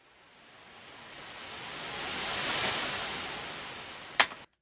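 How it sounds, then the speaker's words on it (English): The reversed tail of a riser sound effect swells as a breathy wash of noise, building gradually to a peak and then fading, capped by a short sharp burst just before it cuts off. "I took the tail end of that and I reversed it into itself"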